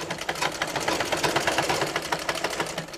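A sewing machine stitches a kameez, a fast, steady mechanical whir with rapid needle pulses that runs close and loud without a break and with no voice over it.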